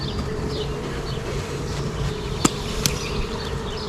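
Honeybees buzz steadily in a hive, a dense close drone with a couple of sharp knocks partway through.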